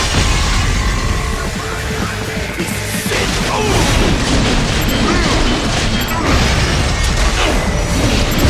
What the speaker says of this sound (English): Firing RPG!